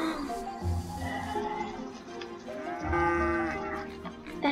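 A cow moos in the horse-riding game Star Stable, a long low bellow over game music with a second drawn-out moo following, close and clear with no talking.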